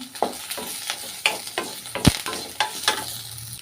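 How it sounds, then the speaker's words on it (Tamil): Tamarind, ginger, onion, dried chilies and curry leaves being sautéed in a pan: a low sizzle punctuated by rhythmic spatula scrapes and knocks roughly every half second, close and clear, with no talk. "புளி இஞ்சி வெங்காயம் காஞ்ச மிளகாய் கருவேப்பிலை எல்லாமே பாருங்கள் நல்லா வதக்கியாச்சுங்க"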